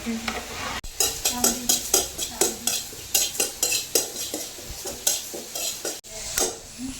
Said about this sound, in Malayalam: അപ്പോൾ ചെറിയ ജീരകവും ഏലക്കായാണ് കേട്ടോ ഈ വറുക്കുന്നത്